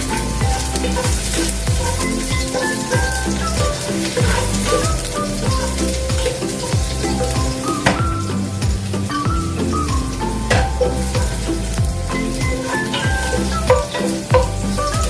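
Onions sizzle loudly and continuously in a frying pan, with frequent scraping and clattering stirs running throughout over a busy, crackling bed of frying.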